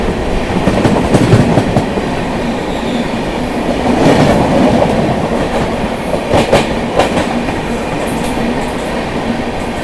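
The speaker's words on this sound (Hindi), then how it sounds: "भारत गौरव टूरिस्ट ट्रेन थी ये" A Bharat Gaurav tourist train passing close by, a loud, sustained rumble with rhythmic clickety-clack of wheels and occasional metallic clanks.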